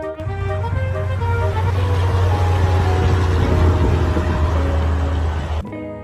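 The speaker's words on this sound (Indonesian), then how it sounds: "yang ini truk tangki teman-teman, warna kuning dan merah" A yellow and red tanker truck rolls past close by, a loud steady engine drone with a deep low hum and tonal whine that holds, then cuts off sharply near the end.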